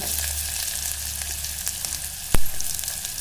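Onions hit hot oil with mustard seeds and cumin, giving a bright, continuous close-up sizzle broken once by a sharp knock of a utensil against the pan.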